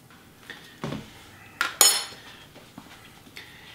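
A knife and cutlery clink and scrape against a plate while butter is spread on banana pancakes, a few light close taps and one sharper ringing clink, quiet and with no talking.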